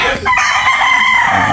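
A loud, close rooster crow rings out in a Philippine backyard where chickens are raised, a single sustained call with no speech.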